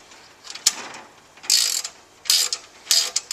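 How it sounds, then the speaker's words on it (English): A 10mm spanner tightens a nut on an iPad kiosk, heard as a few short metallic ratcheting clicks and scrapes in separate bursts, close and moderately quiet. "reinsert, and using your 10mm spanner,"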